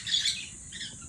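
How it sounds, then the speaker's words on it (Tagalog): Birds chirp and tweet in short, high bursts nearby, with a soft background murmur and no talking. "Sensya na sa ibon."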